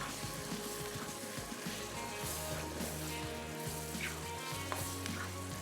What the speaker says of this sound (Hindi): ये सारी चीज़ें डालने के बाद हल्की सी करेंगे भुनाई।